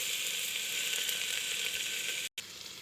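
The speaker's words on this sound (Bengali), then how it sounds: "এবার একটু রসুন আর আদা কুচি দিয়ে একটু ভালো করে নেড়ে নেব" Chopped garlic and ginger sizzle in butter in a pressure cooker, a steady, bright hiss that runs throughout, broken only by a brief cut near the end.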